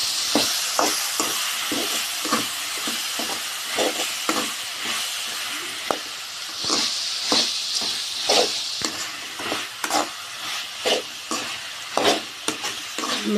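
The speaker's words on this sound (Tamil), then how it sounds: "இது நல்லா கொஞ்சம் வதங்கி வரட்டும்" Eggplant and curry leaves sauté in a pan for a kathirikkai karuvadu thokku. A spoon stirs in rhythmic scrapes and clacks over a constant bright sizzle of frying oil, close up and without talk.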